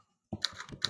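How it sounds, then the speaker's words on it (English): Rapid typing on a computer keyboard during a kids' private coding class, a quick burst of close, bright keystroke clicks that starts after a short silence and continues in an uneven rhythm. "you're typing really fast"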